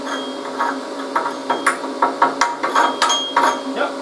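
Chipping and brushing slag off a fresh weld after a welder output test, about a dozen sharp metallic taps and scrapes in an uneven rhythm, close and fairly loud over a steady background hum.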